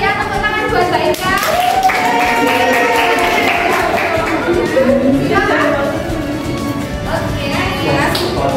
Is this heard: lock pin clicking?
no